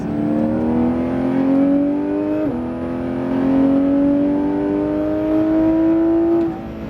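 Porsche GT3 RS accelerating on the La Ferté-Gaucher circuit, its loud in-car engine note climbing, dropping sharply at an upshift, then climbing again before backing off at the end.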